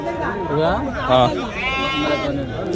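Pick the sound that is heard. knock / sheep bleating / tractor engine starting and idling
sheep bleating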